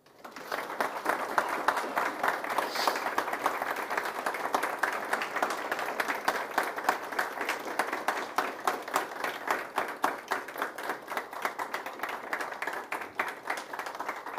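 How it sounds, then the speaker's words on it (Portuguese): Sustained applause from an audience welcoming a speaker, steady and dense clapping throughout with no pause, fairly loud and close. "por favor, recebam com, com aplausos o nosso convidado de hoje, por favor, Renato Nogueira."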